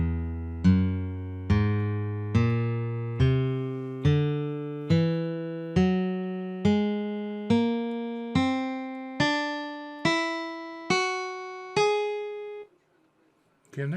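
Guitar playing a C whole tone scale, twelve single plucked notes rising one by one at an even pace, each ringing and decaying before the next, clear and close, then a brief silence.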